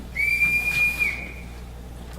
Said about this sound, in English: I forgot to return this whistle, Captain.